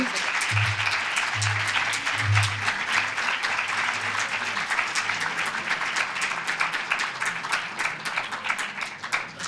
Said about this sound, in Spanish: Yo creo que vamos a darle un aplauso.